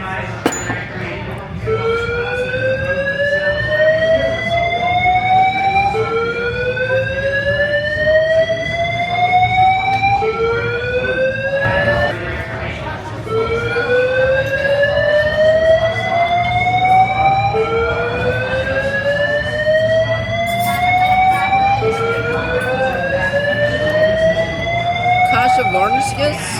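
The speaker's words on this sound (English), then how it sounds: "A big alarm going off." Fire alarm sounding through the El Cortez casino hotel, a loud repeating rising electronic whoop that cycles steadily throughout, with a voice talking underneath.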